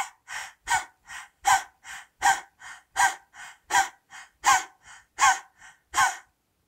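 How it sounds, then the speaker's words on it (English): A person does a rapid fire-breathing exercise through the open mouth with the tongue out, about seventeen sharp, rhythmic breaths alternating strong and lighter, close and loud against silence. "we will try to do that fire breathing through the mouth"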